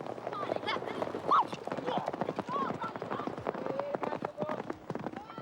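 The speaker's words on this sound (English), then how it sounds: "these trekking horses are freshly down from the mountains and are having their first feel of sand under their hooves" Trekking horses' hooves plod across sand in an uneven rhythm, with an occasional whinny and people talking over the steps.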